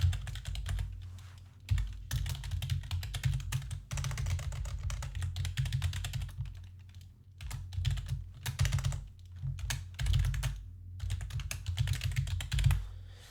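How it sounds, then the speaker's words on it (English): Steady, close clatter of keys on a computer keyboard as code is typed, in quick bursts with short pauses and no talking. "I'm going to type in a code here."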